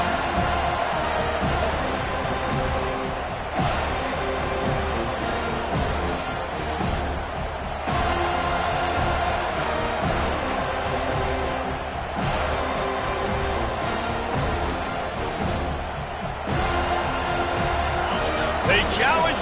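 A football stadium crowd roars and cheers continuously and loudly throughout, a dense, sustained wall of noise with occasional surges, while a play-by-play announcer talks over it.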